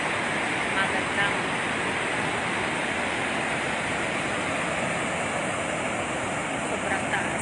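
Floodwater pouring out of the Magat Dam spillway gives a steady, powerful roar of rushing water that holds constant throughout, with a person talking faintly over it.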